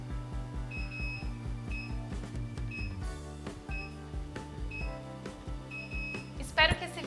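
Repeated short electronic beeps in a steady pattern, mid-loud, from a Skiner portable ultrasound and cavitation device, over a droning background with speech-like activity, and a brighter chirp near the end.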